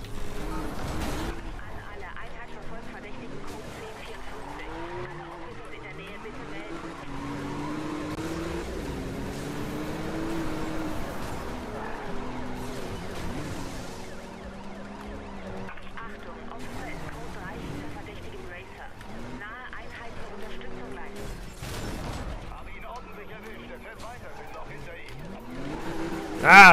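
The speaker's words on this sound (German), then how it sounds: "Krass, der Porsche geht ab." Porsche racing in the video game Need for Speed Rivals, its engine roaring with swooping pitch changes and bursts of tire skidding throughout, while a player talks excitedly over the action.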